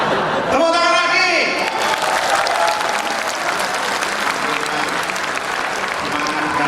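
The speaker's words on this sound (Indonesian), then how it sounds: "Tepuk tangan lagi." An audience at a presidential-candidate convention debate in Surabaya breaks into loud, dense applause after a speaker's voice, sustained clapping filling the hall with crowd noise.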